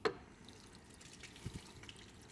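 Quiet trickling and dripping water, a faint splash at the start and a few soft drips later, as liquid is flushed out from under paint protection film on a Tesla Model 3 Highland fender.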